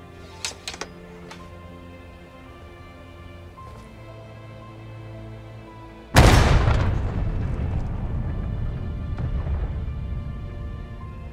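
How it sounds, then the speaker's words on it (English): Civil War cannon in the video game War of Rights firing a canister round, a single loud close boom after a quiet stretch with faint small pops, followed by a long rumbling decay. "These canister rounds here will be able to hit a wide variety of targets at short ranges. Much like a shotgun blast."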